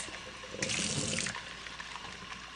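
Hard-boiled eggs rinsed under a running kitchen tap, water splashing steadily with a brief louder gush near the start, close and without speech.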